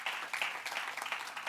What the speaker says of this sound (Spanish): Denle un aplauso al Señor en esta tarde.